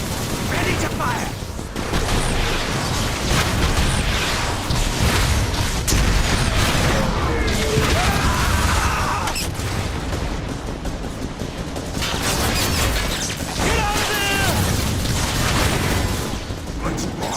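Heavy turret gunfire and explosions from the Transformers: War for Cybertron video game, a continuous loud barrage of rapid shots and booms throughout, with voices shouting over the battle.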